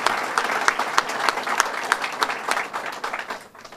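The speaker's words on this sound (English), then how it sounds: "I'd like to give him a round of applause" Audience applause for the governor at a Staten Island public event on the fentanyl crisis, a dense steady crowd clapping with sharp individual claps standing out, fading toward the end.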